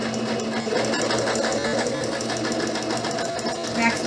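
Sewing machine backstitching the seam of a pillowcase: a steady, loud mechanical whirring and rapid needle clatter running continuously up close.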